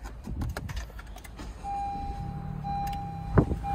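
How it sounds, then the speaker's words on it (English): A 10th generation Honda Civic starts up after a modification. First come a few clicks and a jingle of keys, then a steady electronic tone and a low engine hum as it powers on, all fairly quiet and with no talking. "So all that's left to do is turn the car on."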